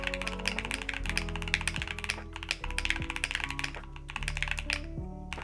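Rapid, steady typing on a mechanical keyboard fitted with milky yellow switches, a dense run of close, crisp clacks and thocky key bottom-outs with no talking.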